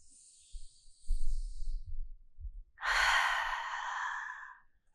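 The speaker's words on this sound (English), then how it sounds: "Take a deep breath here." A deep breath taken during a yin yoga session: a soft, airy inhale early on, then a long, loud exhale lasting nearly two seconds, close up and with no talking.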